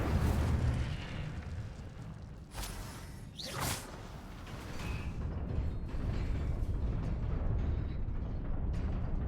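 Incendio fire spell cast in the video game Hogwarts Legacy, a burst of whooshing flame and crackling blast amid a dense, rumbling game soundscape, with loud effects running throughout.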